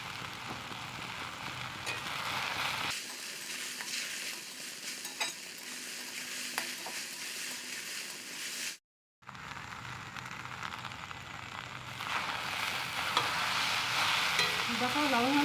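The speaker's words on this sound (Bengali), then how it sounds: "লবণ হলুদ দেওয়ার পরে আমি 7-8 মিনিট ভেজে নিয়েছিলাম" Taro stolons with salt and turmeric stir and sizzle in a frying pan, a steady close crackle with scraping stirs, broken by one brief silent gap before the frying carries on.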